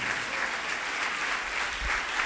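A church congregation applauds during a sermon, a dense, continuous roar of many hands clapping together, loud and steady throughout with a slight low rumble of the room.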